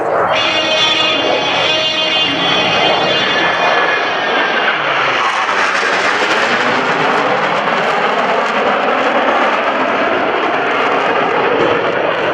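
US Navy Blue Angels jets fly the Low Brake Cross at a 2012 Joint Services Open House air show, a loud, sustained roar of jet engines that swells with a sweeping pass, close and overwhelming throughout.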